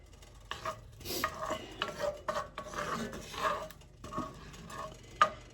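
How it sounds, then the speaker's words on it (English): Unsalted butter melting in a pan for chicken spaghetti, stirred with quiet, intermittent scraping strokes and a faint sizzle underneath. "So we're melting our butter."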